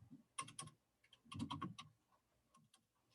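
Fingers type on a computer keyboard with worn keys, producing quiet, close bursts of rapid clicks with short pauses between them and no voices.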